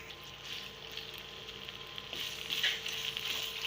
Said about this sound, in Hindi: अब हम इसमें जो गोश्त था वो डाल देंगे और इसको भी हम अच्छी तरीके से भून लेंगे